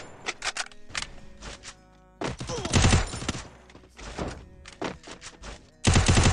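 Gunfire in a desert-map 4v4 video game: sharp, loud shots in quick bursts and single cracks with brief pauses between, the heaviest volleys near the middle and end.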